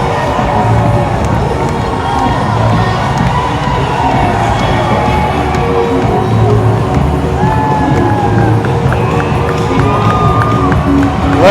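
A dense, loud crowd at the New York City Pride March parade cheers, whoops and shouts continuously, with children's voices and scattered talk mixed into the steady roar.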